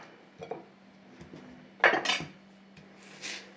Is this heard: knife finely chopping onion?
yes